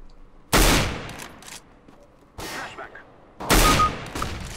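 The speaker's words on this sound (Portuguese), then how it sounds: "Para já foram tiros normais." Three loud, sharp gunshot bursts in CS:GO ring out a second or two apart, each with a brief echoing tail, close and punchy.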